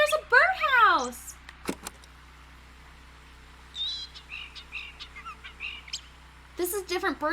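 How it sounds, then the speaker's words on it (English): A bird near a birdhouse gives an unusual, varied call: bold swooping whistled phrases at the start and end with a busy run of short chattering notes in between, fairly close and clear over a quiet hum. "This is a different bird call than we've heard before."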